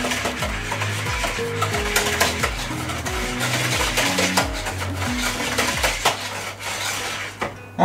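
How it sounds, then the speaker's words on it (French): A utensil stirs the mixture for an Antillean coconut flan in a pot, a loud steady scraping and clinking against the sides, continuous and close, with no talking. "On mélange."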